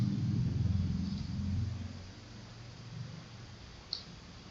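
A single sharp computer mouse click sounds near the end, faint against a low background hum after a soft rumble fades.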